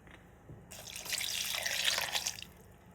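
Water pours steadily for about two seconds while a mango curry is being prepared, starting abruptly and then stopping, with a soft splashing, tap-like flow in a quiet kitchen.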